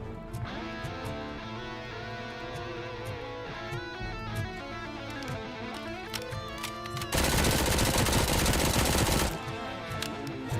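An electric guitar plays through an amp with the presence control turned up, giving a bright, distorted, rapid chugging riff with crisp pick attack, and a loud wash of noise cuts in briefly near the end.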